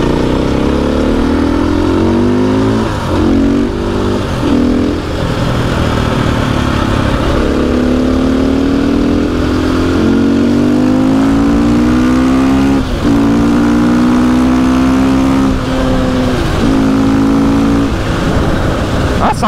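A KTM EXC 450 supermoto motorcycle engine revs loudly and continuously, its pitch rising and falling in repeated throttle sweeps, heard up close for the whole stretch.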